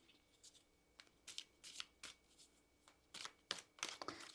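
A deck of cards being shuffled up close, with quick riffling bursts and soft flicks, faint and intermittent.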